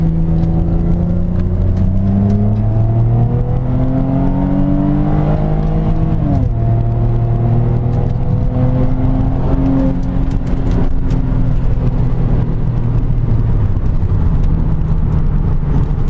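A Trailblazer SS engine climbs steadily in pitch as it accelerates, drops briefly at a gear change, then pulls up again, loud and close from inside.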